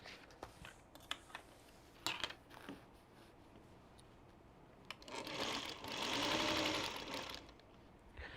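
A sewing machine stitches fabric for foundation paper piecing, a quiet rapid whirring run that swells into a steady mechanical buzz, with scattered clicks and taps around it and no talk.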